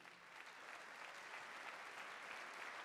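An audience at a New Year's greetings ceremony in Vichy applauds the municipal council, dense steady clapping from a large crowd at a moderate distance, continuous throughout.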